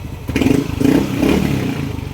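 A Yamaha Aerox or Nmax scooter engine keeps running with a loud, steady, close mechanical drone and rattle, and its charging/starter relay is suspected faulty.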